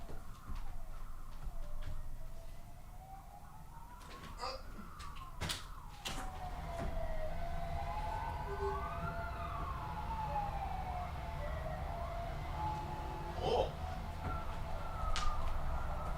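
Several police car sirens wail and sweep up and down in overlapping tones, fairly distant, over traffic rumble. A few sharp knocks and bangs are heard nearby.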